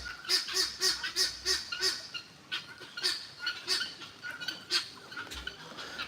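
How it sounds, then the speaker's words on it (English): Geese honk at an animal sanctuary in a string of about a dozen close, loud, nasal calls in quick irregular bursts, with no talking. "Robert, these are the geese right here"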